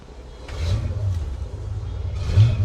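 Big-block 454 engines on a boat starting up, a deep close rumble that swells as they rev, with a couple of louder throttle surges and no talking.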